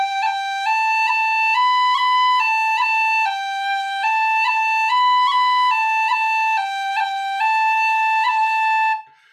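A tin whistle plays a lively line of repeated notes, each separated by quick ornamental cuts in Irish whistle style, bright, clear and close, played alone for about nine seconds before stopping.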